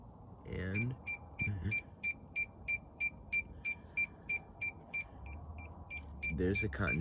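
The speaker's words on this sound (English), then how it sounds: "there's the continuity beep." A PerfectFlite Minitimer 4 altimeter timer gives a series of about fourteen short, evenly spaced, high-pitched continuity beeps, loud and close, with a brief voice at the start and again at the end.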